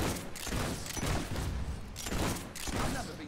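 Gunfire in the Fable 3 video game comes as repeated bursts of shots roughly every second, loud and dense, with a voice faintly underneath.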